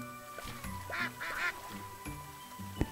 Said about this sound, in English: I've been favoring the baby ducks a little too much